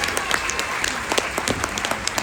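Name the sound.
audience applause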